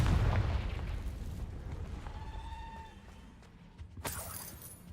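A fire spell cast in the video game Hogwarts Legacy bursts with a heavy, rumbling explosion. A high ringing tone follows as the blast fades, then a sharp crack near the end.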